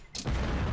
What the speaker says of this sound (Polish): Paczka wybuchła po lewej